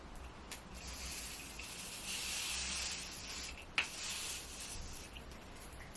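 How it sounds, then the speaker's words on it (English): A Morphe matting setting spray that has gone clogged releases a soft, continuous hiss of mist. A single sharp click sounds midway, with no talking over it. "I'm going to use a little bit of the Morphe. This is a matting spray."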